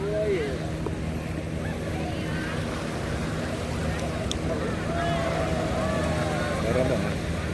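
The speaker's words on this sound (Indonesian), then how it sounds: "Malah diajak keliling-keliling pakai kapal tuh." A boat cruises along the beach at Pantai Dadap in Sumur, giving a steady, close engine drone with wash of water and wind noise. People talk over it.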